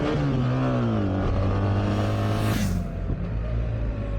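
BMW R 1300 GS motorcycle engine revving while stuck in false neutral, a loud, close, sustained roar with the pitch climbing and then easing off, wind rush over it.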